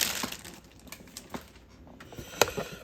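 Plastic bags holding a Tonecheer Giverny Garden model kit's runners being opened, with scattered crinkles and sharp clicks of plastic parts up close, one louder snap near the end.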